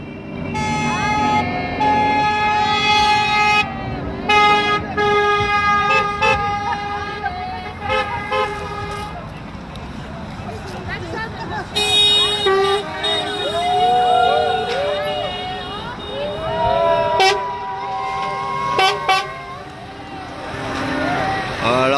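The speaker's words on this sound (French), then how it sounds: "On a bouché pas mal de camions qui rentrent, c'est le moment des camions." Trucks rolling through a motorway toll booth blockade during a yellow vest protest, with repeated horn toots and blasts layered over engine rumble, loud and close, while people talk nearby.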